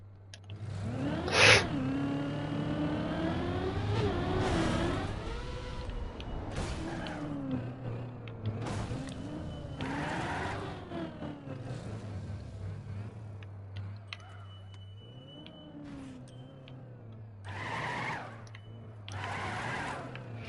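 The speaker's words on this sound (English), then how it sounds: "It's an RC car that drives in the North Pole." RC car driving across a snowy North Pole track in Trackmania, engine tone whining and sweeping up and down with speed changes, a steady low drone underneath and a sharp squeal-like burst near the start.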